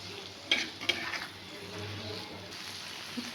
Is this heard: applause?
no